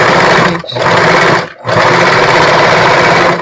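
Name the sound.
sewing machine stitching a bra, backstitching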